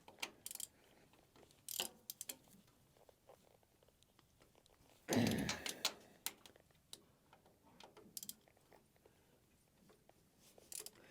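A torque wrench clicks and ratchets while small bolts are tightened in a cross pattern on a Case 430 diesel tractor, sparse sharp ticks with a louder burst of mechanical clatter midway.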